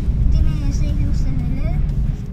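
A Lexus LC500 sports car runs steadily at close range, a continuous low engine rumble holding loud and even throughout, with no one speaking over it.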